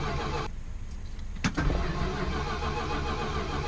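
An RV engine with a new electric ignition cranks without catching, a close, steady churning that continues after a brief click and thump midway; no talking.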